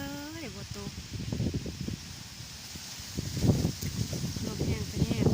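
Strong storm wind gusting through trees and rustling leaves, a steady rushing bed that swells louder toward the end, with a person talking over it throughout.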